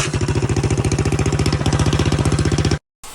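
A mini bike's 212 engine with a slight fault runs at a rapid, even idle-like chug, loud and close, before cutting off abruptly near the end, with no talking over it.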